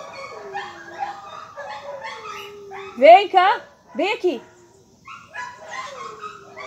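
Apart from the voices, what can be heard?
dogs barking and whimpering excitedly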